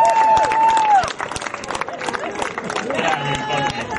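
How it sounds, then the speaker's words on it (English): Applause and cheering from a crowd at a street magic show on a pier, a steady wash of clapping with some whistles, a voice talking over it early on. "Give them both a round of applause."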